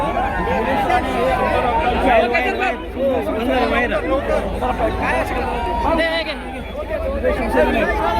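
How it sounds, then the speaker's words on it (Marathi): A crowd of political party workers celebrating a strong election showing in the Kudal-Malvan area of Konkan: a loud, dense babble of many voices shouting and chattering together without pause. "जोरदार जल्लोष सुरू आहे कार्यकर्त्यांचा जल्लोषामध्ये"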